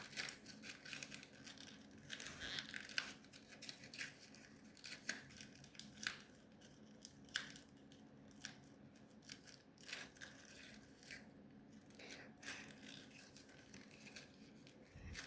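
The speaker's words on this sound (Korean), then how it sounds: "이 부분은 속으로 쏙 집어넣어서 접어줍니다." Soft close-up paper handling while folding an origami gold dragon: quiet crinkles, creases and rustling taps in irregular bursts against a faint hum, no talking.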